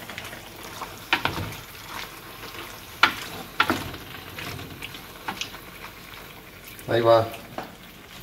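Meat fries with red chile in a pan for carnitas-style carne con chile, with a soft steady sizzle broken by a few scraping stirs and a louder burst of sputtering near the end, while someone talks briefly.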